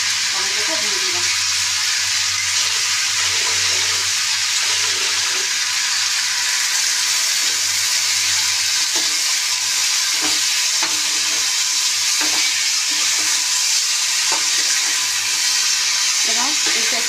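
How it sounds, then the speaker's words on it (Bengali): Tomatoes and spices sizzle steadily in hot oil for a morola fish curry, a continuous close, loud frying hiss with occasional stirring clatter and faint background voice. "এবার এটা একটু ভাজা ভাজা হোক, কষানো হোক"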